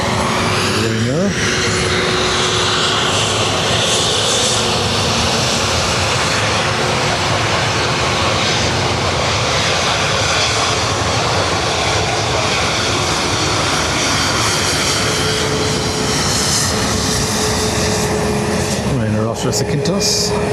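A Ryanair airliner at Dublin Airport gives a loud, steady engine roar for the whole stretch. The jet noise holds constant and fills the air, with a slight shift near the end.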